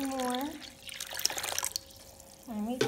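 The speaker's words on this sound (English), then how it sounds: "I'm adding some cold water" Cold water poured into an apple cider vinegar rinse mix, a light trickling and splashing heard faintly between stretches of someone talking.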